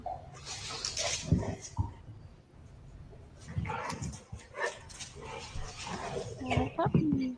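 A puppy whimpers and gives short yelps in bursts, close by, under people talking and exclaiming over it.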